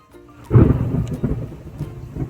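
A deep rumble of thunder rolls in and lingers, loud and close, with a faint patter of rain around it.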